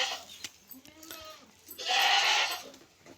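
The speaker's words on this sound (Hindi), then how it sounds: "ए बकरी क्यों बाकदी खड़ी है" A goat bleats close by in a rural yard, with one long, loud, wavering bleat standing out after a few softer sounds and light knocks.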